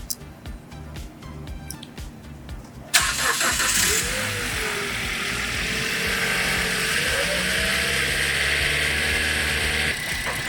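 A car engine cranks and catches, then settles into a steady, loud running drone held at about 2,500 RPM for a catalytic converter test, with no talking over it.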